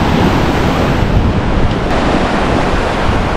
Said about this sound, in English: So the waves don't appear to be too big